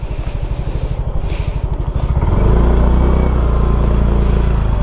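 A motorcycle being parked on a moto ride in Pililia, Rizal, its engine loud and close, chugging at a steady idle before the sound shifts to a deeper, smoother rumble.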